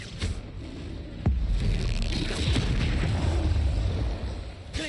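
Confringo fire spell blast from Hogwarts Legacy gameplay, a sudden booming burst followed by a rumbling, crackling tail at moderate volume.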